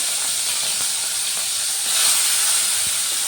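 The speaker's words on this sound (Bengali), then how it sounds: "তেলটা গরম হয়ে গেছে এবার ওই তেলের মধ্যে আমি দিয়ে দিচ্ছি নুন হলুদ মেখে রাখা চিংড়ি মাছ" Shrimp coated in salt and turmeric fry in hot mustard oil with a loud, close, continuous hiss and sputter that swells briefly near the end, with no voices.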